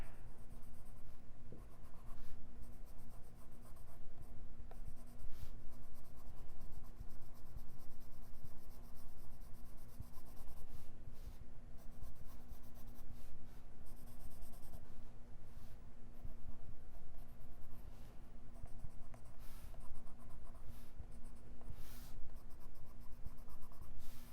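Colored pencil strokes rub softly and continuously on paper as a lighter yellow is blended over earlier layers, a faint close scratching under a low steady hum.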